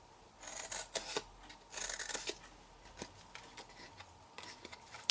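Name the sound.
scissors cutting into squares for fold-up bag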